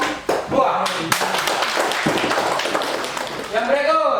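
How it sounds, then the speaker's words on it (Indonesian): Classroom of students clapping for a group after its presentation, brief close applause mixed with taps and thumps, with voices over it. "Kita beri tepuk tangan untuk kelompok 2."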